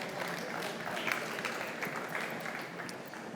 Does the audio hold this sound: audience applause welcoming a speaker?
yes